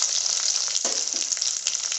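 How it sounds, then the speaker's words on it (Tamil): Urad dal and fennel seeds fry in hot oil in a pan for a Chettinad yam masiyal, giving a steady close sizzle with a brief stir partway through and no voices. "லேசாக உளுந்து செவந்து வரட்டும். நல்லா வறுபட்டுருச்சு."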